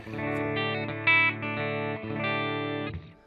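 A Squier Classic Vibe 60s Jazzmaster electric guitar played through a Spark amp rings out in sustained chords with effects and slight grit, a few changes across the phrase before it cuts off, no talking.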